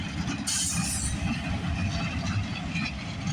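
A CN westbound freight train rolls past at Burlington West, a steady loud rumble of wheels on rail with a brief high squeal near the start.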